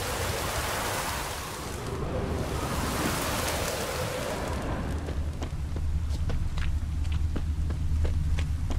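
Steady rain hisses in the Witcher 3: Blood and Wine game world, a dense broadband wash that thins out halfway while scattered sharp ticks and patters stand out, with no talk.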